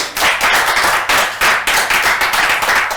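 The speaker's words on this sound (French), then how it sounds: "Je pense que ça s'applaudit." An audience claps together at a French business-course event, a brisk, dense run of handclaps that keeps going throughout without any speech.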